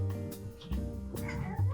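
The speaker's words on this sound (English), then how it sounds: "Cats." A house cat meows a few times, close by and fairly faint, mixed with soft indoor voices and background hum.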